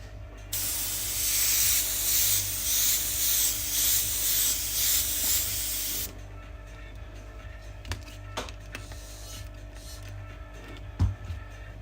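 An airbrush spraying under-thinned paint poorly hisses steadily with slight pulsing for about six seconds, then stops, leaving faint clicks and handling noises.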